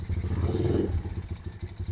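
A motorcycle engine idles steadily with its headlight switched on after a large capacitor was fitted to stop stalling, a close, continuous throbbing rumble with light mechanical clatter and no stall.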